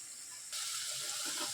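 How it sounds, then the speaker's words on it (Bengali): Water used to rinse a spice bowl is poured into a hot pan of frying spices for a Bengali chicken curry, setting off a sudden, fairly quiet hissing sizzle that carries on to the end. "বাটিটা আমি একটু ধুয়ে জলটা দিয়ে দিলাম"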